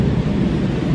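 Rumbling thunder from a huge thunderstorm outside fills the background, a steady low roar lasting throughout without distinct cracks, heard from indoors.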